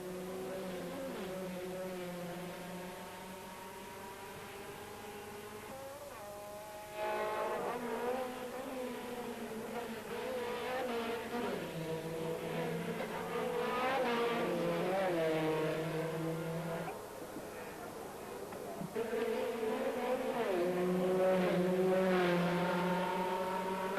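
Race cars at the 1990 Circuito de Vila Real roar past in succession, engines rising and falling in pitch as they accelerate and shift, loud and continuous throughout, with no voices.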